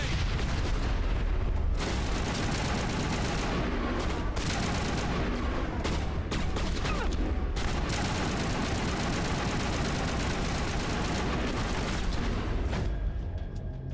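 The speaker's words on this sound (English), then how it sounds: "Alright, I'm gonna use my assault rifle. I'm gonna toss a grenade over here." Sustained assault rifle fire and a grenade explosion in the Mass Effect video game, dense continuous bursts of shots with brief gaps, loud and close throughout.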